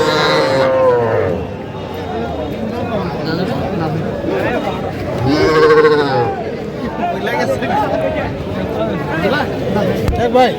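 Young bull calves at a cattle market in Tangail, several loud, close moos rising and falling over about ten seconds amid overlapping chatter from buyers and sellers.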